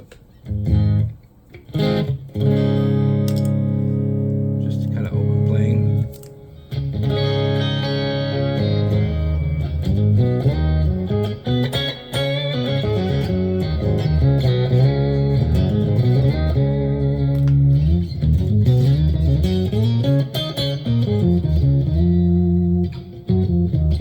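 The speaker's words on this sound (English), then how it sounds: "I think this one has two types of reverb" An electric guitar plays a sustained, effected line through a McRocklin patch with two reverb types, drenched in spacious reverb, with long ringing tails blending the notes together, loud and continuous.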